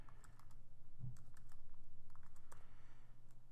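Typing on a computer keyboard, a quick close run of light key clicks in irregular bursts over a low steady hum, quiet and with no talking.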